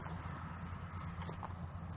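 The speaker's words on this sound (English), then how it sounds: "here comes the horse" A horse walks past in a Salt Lake City garden setting, its hooves giving soft, irregular clip-clop thuds close by over quiet outdoor background.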